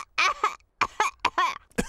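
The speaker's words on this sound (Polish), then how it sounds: "wszyscy dorośli zarazili się kaszlem Pedra" Several cartoon adult characters from the animated Peppa Pig coughing in quick succession, a string of short, harsh, close bursts separated by brief pauses.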